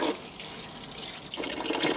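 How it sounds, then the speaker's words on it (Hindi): Running tap water rinsing rice in a pot, a steady broadband wash of splashing and pouring with a brief lull midway, close and continuous, no voices. "खूब अच्छी तरह पानी दे देकर धोना है"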